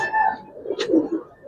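Pigeons in a Giribaz coloring pigeon loft coo and call close by, a few soft throaty notes running together under a brief burst of noise.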